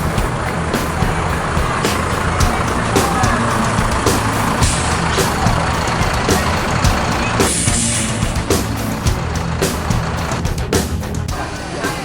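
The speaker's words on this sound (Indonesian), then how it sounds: "Bus Putra Persijaya sudah sampai di Terminal Barai Solok" A Putra Persijaya bus with a Hino engine pulls into Terminal Barai Solok, its steady loud rumble filling the terminal amid clanks, a reversing beeper and a hiss of brakes, with voices talking in the background.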